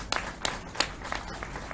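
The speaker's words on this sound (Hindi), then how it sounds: "एक बार सभी लोग ताली बजाकर स्वागत करें" Scattered, thin applause from an audience welcoming Madhya Pradesh chief minister Shivraj Singh at a COVID hospital opening in Bina. A few separate claps ring out at an uneven rhythm, faint and somewhat distant.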